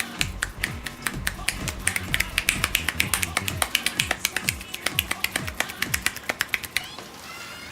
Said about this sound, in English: Well, I'm a good hand clapper.